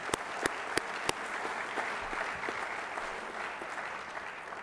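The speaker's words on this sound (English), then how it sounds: "So big round of applause for both of them." An event audience bursts into applause, with a few sharp nearby claps at the start before the sustained, even clapping of the crowd carries on throughout.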